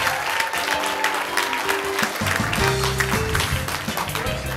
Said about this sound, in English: Let's give her a round of applause as she comes on out here.